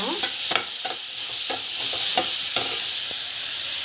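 Onion and grated coconut sauté in a pan for a country chicken pepper fry, making a near, continuous hiss with repeated quick clacks and scrapes of a stirring spoon.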